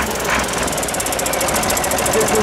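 A diesel tractor engine runs at an agricultural show arena, giving a steady rapid knocking rattle at close range with no talk over it.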